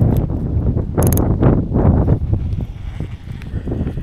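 Strong outdoor wind gusts buffet the microphone during a thunderstorm while bass fishing, a steady low roar swelling and easing across the whole stretch with a brief sharp rattle early on.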